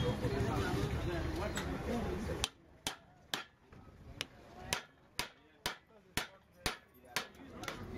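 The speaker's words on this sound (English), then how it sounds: "Cover with the plunger and hit with a hammer to compress the mixture into a briquette." Hammer strikes on a plunger compressing a biomass charcoal briquette mixture in a wooden block mold: about a dozen sharp, evenly spaced knocks, close and loud, after a stretch of background noise.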